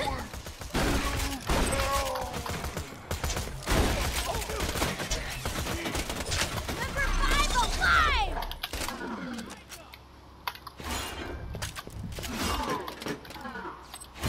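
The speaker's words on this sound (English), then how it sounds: "Suicide bombers, let's blow them up with grenades." Grenade blasts and bursts of gunfire from the video game Borderlands 2 crackle in rapid, dense volleys, loud and continuous, with a person talking over much of the action.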